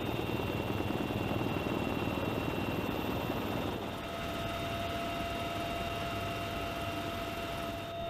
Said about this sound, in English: helicopters fly high above, with only the horizon in view